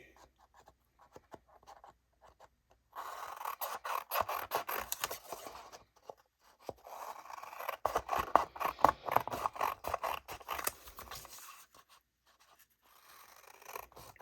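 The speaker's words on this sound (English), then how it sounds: "I'm just going to grab a pair of scissors, and I'm going to cut this out" Close, rasping snips and rustles of scissors cutting out paper for a junk journal cover in irregular bursts, with quiet pauses in between.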